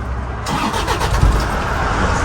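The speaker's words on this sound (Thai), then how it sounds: "ฟังเสียงเครื่องยนต์หน่อยนะครับ" A Toyota Tiger pickup with a D4D 2.5-litre diesel engine cranks and fires up after a short quiet moment, then settles into a loud, close, clattering run.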